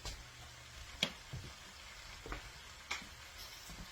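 Thai drunken noodles frying in a pan, a quiet, steady sizzle broken by a few sharp clicks and stirring scrapes, no voices.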